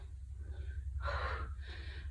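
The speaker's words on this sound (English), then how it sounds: "Remember to keep breathing through these." Heavy, labored breaths from a person doing an upper-body workout, heard as two close, audible exhalations through the mouth over a steady low background hum, with no speech.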